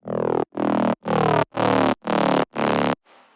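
Distorted saw-wave synth with white noise and a comb filter, played as six loud, evenly spaced sustained notes with sharp gaps, then a faint noisy tail.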